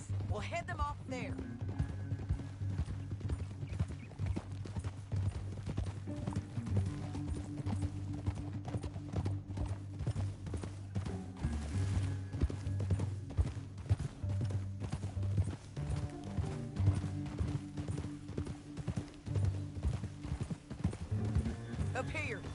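Steady, rhythmic hoofbeats of horses galloping in the Western video game Red Dead Redemption, moderately loud and continuous, with an occasional whinny over a low, droning musical background.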